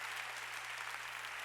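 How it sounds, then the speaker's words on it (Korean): Steady, dense applause from a church congregation during a Korean sermon, an even wash of clapping held at low level for the whole stretch with a low hum beneath it. "박수"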